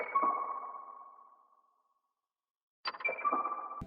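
Dark melodic sample pitched down an octave in FL Studio: a tonal note rings out and decays over about two seconds, then after a short silence the same pitched-down phrase starts again.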